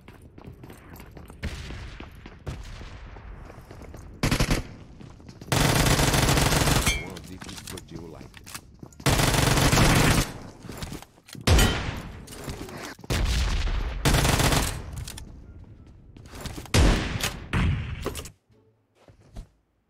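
Gunfire exchange in PUBG Mobile, with loud sustained bursts of automatic fire and several shorter volleys, separated by gaps, among excited voices talking.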